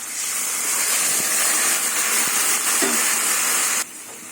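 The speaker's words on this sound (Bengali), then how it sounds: "এবার আমি শাক দিয়ে দেবো" Bottle gourd greens hit a hot pan already holding fried prawns, releasing a loud, broad steaming sizzle that holds steady for several seconds and then drops abruptly to a quieter hiss.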